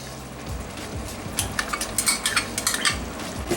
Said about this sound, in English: Now keep stirring the lamb on medium heat.